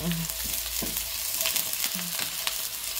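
Onions sautéing in a pan ahead of minced beef and okra, a close continuous sizzle with occasional scraping stirs and clinks from a utensil.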